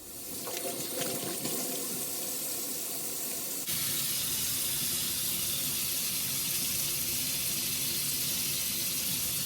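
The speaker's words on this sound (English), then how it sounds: "We're gonna wash your hands and we're just gonna get started." Water runs steadily from a tap into a kitchen sink during handwashing before baking cinnamon rolls, with a continuous close hiss that gets louder and brighter partway through as the flow increases. No one speaks.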